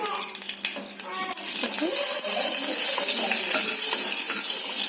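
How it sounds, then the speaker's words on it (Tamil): Asafoetida splutters in hot oil pooled at the edge of a pan for a sambar tempering. A light crackle swells after about a second into a loud, steady close sizzle. "அந்த பெருங்காயம் பார்த்தீங்கன்னா நல்லா பொறிஞ்சு வருது"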